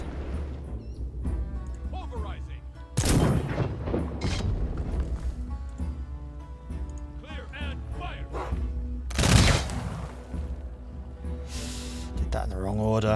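Artillery bombardment in the strategy game Humankind booms in two sharp, loud bursts amid game music and effects, with someone talking over the action.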